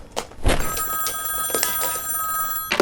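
An old telephone bell rings loudly and close, a sustained jangling ring with bright metallic tones, starting after a couple of sharp knocks and continuing through the clip.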